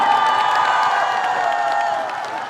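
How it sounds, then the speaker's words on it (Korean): A crowd at an outdoor trot music concert in Andong applauds and cheers, a dense continuous wash of clapping and voices heard at a steady loud level, easing slightly near the end. "박수 한번 주세요."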